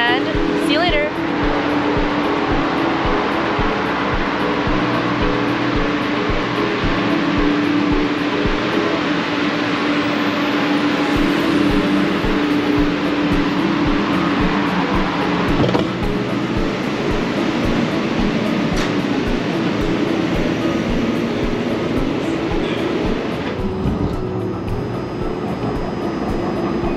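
An Edmonton LRT light rail train arrives at a station, a loud, steady rumble and whine of the rail car with rising mechanical hum, while a person talks over it.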